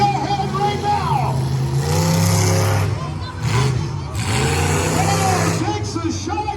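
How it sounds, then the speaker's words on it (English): A mini monster truck engine revs and surges at a monster truck show, rising and falling in pitch over a loud crowd and arena ambience, with an announcer talking throughout. "The Beta Mini Monster Truck ahead right now."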